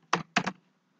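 A few quick keystrokes on a computer keyboard while entering a name into a Python console: one tap followed by a fast double tap, close and crisp, then quiet.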